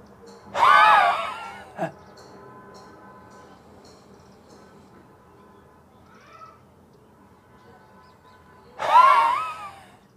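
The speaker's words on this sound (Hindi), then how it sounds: "लंबी गहरी सांस भरें नाभि तक और जीभ निकालते हुए आपको सांस बाहर फेंकनी है।" A yoga breathing exercise: a forceful exhalation with the tongue stuck out comes as a loud, raspy, hissing roar, then a brief catch; after a long quiet stretch with a faint murmur, a second equally loud forceful exhale follows.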